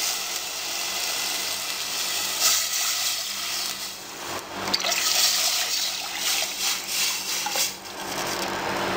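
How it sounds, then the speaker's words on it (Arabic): Water pours steadily into a pot of basmati rice with a splashing, trickling sound, continuous and fairly close, with slight surges along the way. "ننزل بالرز بالميه"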